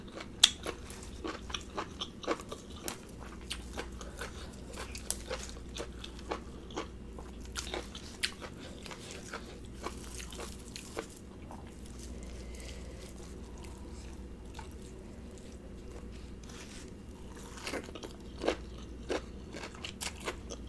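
Spicy beef tripe salad with vegetables being eaten up close, a run of crisp, crackly bites and wet chewing crunches in irregular rhythm, quiet and intimate with no talk.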